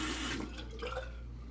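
Water runs steadily from a bathroom sink faucet while a razor blade is warmed before a straight-razor shave, a continuous close splashing flow that softens slightly after the first moments, with no talking.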